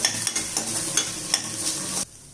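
Ingredients sautéing lightly in a pan for traditional pidi kozhukattai: a close, steady sizzle with scraping stirs that stops abruptly near the end.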